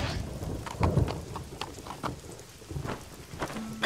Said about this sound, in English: Still out in the storm!